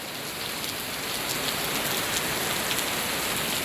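Heavy rain pours down steadily, a dense, loud, even hiss of drops drumming on surfaces with no pauses.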